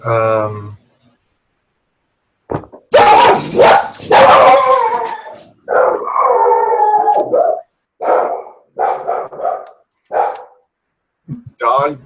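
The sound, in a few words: dog barking and howling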